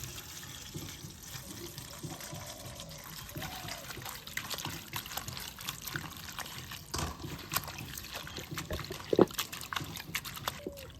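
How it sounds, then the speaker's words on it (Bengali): Helencha greens being rinsed in water for a village-style helencha bata, with a soft continuous trickle and splashing at close range, faint and steady throughout, with no speech. "এখন জল দিয়া বেশ সুন্দর করে শাকটা ধুয়ে নিই"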